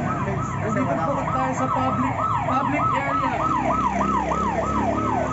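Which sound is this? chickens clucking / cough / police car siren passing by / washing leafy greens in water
police car siren passing by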